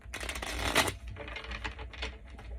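A deck of tarot cards is shuffled by hand in a series of quick papery riffles and patters, one sharper burst early on, close and alone.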